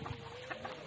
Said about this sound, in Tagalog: Ayan, ang aming mga manok.